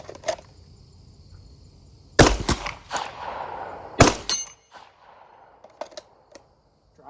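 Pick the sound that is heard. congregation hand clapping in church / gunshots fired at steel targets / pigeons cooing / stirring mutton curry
gunshots fired at steel targets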